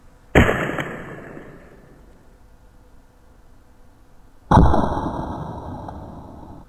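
Two sharp rifle shots with CCI Segmented Hollow-Point ammunition, each a loud, close crack with a long ringing decay, spaced about four seconds apart, aimed at a clay target.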